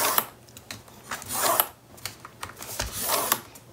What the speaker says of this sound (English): you're going to create a score line